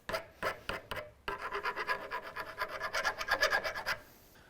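Burrs and metal shavings being scraped from inside threads on a 2016 Chevy Silverado 1500 lift kit part, with close rhythmic rasping strokes, a few separate scrapes and then a quick steady run.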